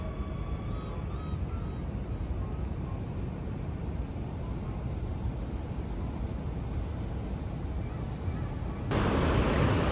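A waterfall gives a constant, loud, broadband rush of falling water with no break, steady throughout, with a slight jump in level near the end as wind buffets the microphone.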